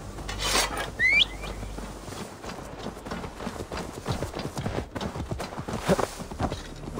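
Horse hooves clip-clop in Assassin's Creed Valhalla, a steady rhythmic trot running through the whole stretch amid game ambience, with a brief bright whistle-like tone near the start.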